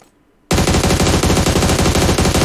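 Rapid, continuous automatic fire from an AUG assault rifle in the PUBG Mobile video game, starting abruptly after a brief quiet and staying loud and dense to the end.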